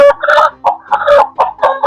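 Chickens cluck close by in several short, loud bursts with brief pauses between them; no one speaks.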